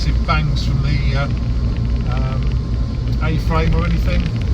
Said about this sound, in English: Letting my foot off the throttle sharply